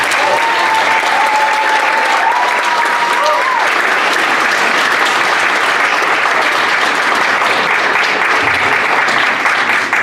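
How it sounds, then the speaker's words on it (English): A ceremony audience claps in sustained, loud, dense applause for the volunteers, filling the room for the whole stretch, with a voice briefly audible at the start. "give a nice round of applause for all the volunteers who are here helping out"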